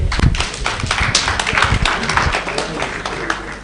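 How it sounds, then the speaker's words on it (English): An audience at an indoor financial wellness workshop gives a round of applause, a dense burst of clapping under a busy, reverberant room with some voices mixed in. "A round of applause for them."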